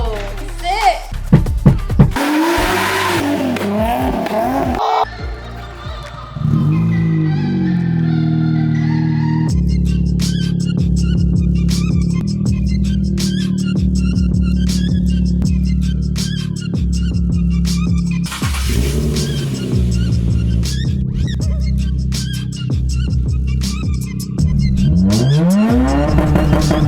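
A Nissan 350Z drift car revs hard and roars along an off-road track, engine pitch climbing and dropping through repeated accelerations, with loud bursts at the start and near the end.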